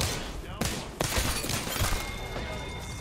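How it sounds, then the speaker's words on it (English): Gunfire in a fast-paced shooter video game: a dense, loud burst of shots with sharp cracks at the start, then continuous rattling fire and impacts filling the whole stretch. "I could have sworn I just put a shot straight through that Gibby"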